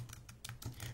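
Soft, quick clicking of keys being tapped on a gaming keyboard in a short burst, close and quiet, with a low background hum.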